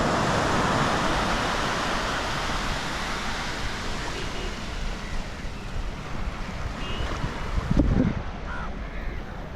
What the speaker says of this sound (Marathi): आणि हा बा समुद्र कसा खवळलेला दिसला आहे.